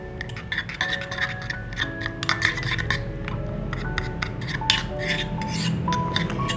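A spoon clinks and scrapes against a bowl while aloe vera and lemon are mixed into a face mask, with quick, irregular metallic taps and rattles close by and no talking.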